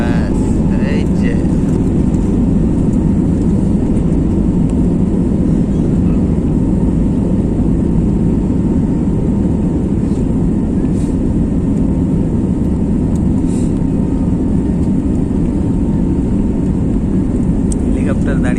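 Airplane accelerating down the runway for takeoff from Sri Lanka, a loud, steady low engine roar that fills the whole stretch with no breaks.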